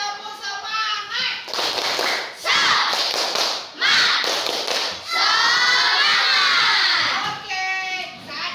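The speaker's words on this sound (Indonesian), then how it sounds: "Kita tepuk semangat dulu, tepuk semangat." A group of schoolchildren in a classroom claps a quick rhythmic cheer, loud and close, with shouted voices between bursts of clapping.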